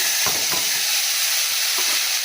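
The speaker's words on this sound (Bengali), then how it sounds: "ইলিশ মাছ ভাজার তেল ছিল তার মধ্যেই উচ্ছেগুলো ভেজে নিই" Bitter gourd slices fry in leftover hilsa fish oil, a loud continuous sizzle and hiss filling the pan, with a few soft scrapes and taps of stirring close by.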